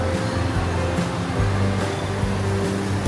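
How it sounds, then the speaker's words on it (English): An indoor waterfall inside the Eastin Grand Hotel Sathorn in Thailand gives off a loud, constant rushing roar of falling water that fills the space without pause. "They have an indoor waterfall."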